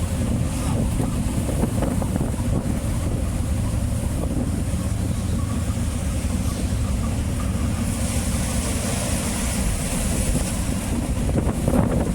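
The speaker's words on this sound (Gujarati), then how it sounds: "થોડીક રાહત થઈને આ પવન જોરદાર ઉપડી ગયો હે." Strong wind roars steadily against the microphone throughout, a constant loud rushing with no break.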